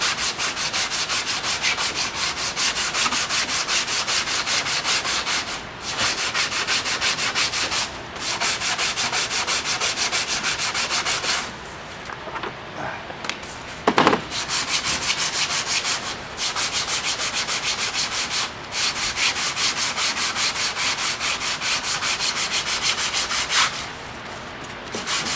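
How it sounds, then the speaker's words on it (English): Brake pads are sanded down during a brake service, a loud continuous rasping rub in long steady passes with a few short pauses and one sharp knock midway. "you just got done sanding it down"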